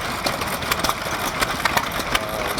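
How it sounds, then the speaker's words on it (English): A hit-and-miss stationary engine runs at a vintage steam rally, giving a steady mechanical chugging with irregular sharp firing beats, fairly close and loud against a busy outdoor background. "Another hit and miss engine."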